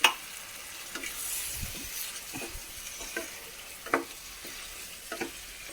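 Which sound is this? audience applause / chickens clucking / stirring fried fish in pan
stirring fried fish in pan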